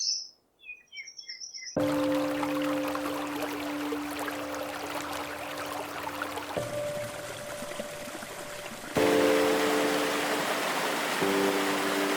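A few bright bird calls, then the Quan Si waterfall in Laos roars in, a loud, steady rushing wash that continues with faint sustained tones layered over it.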